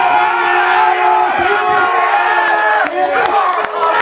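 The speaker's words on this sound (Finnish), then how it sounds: "Hyvä raikuvat aplodit!" A crowd at a strongman contest at the Ranua Hillamarkkinat market applauds and cheers after a 330 kg lift. The loud, sustained clapping and whooping carries on throughout, under an excited voice.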